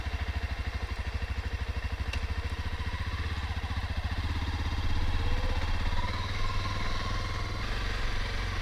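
A 2016 Honda CRF250L motorcycle engine idles with a rapid, even single-cylinder chug, close and moderately loud, then the note thickens and rises slightly as it revs a little, with no talk.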